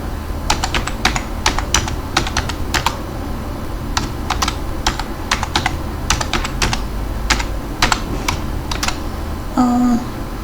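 Keystrokes on a computer keyboard while code is typed for UART programming on an Arm Cortex M4, arriving in uneven bursts of sharp clicks over a low steady hum, ending with a brief electronic tone.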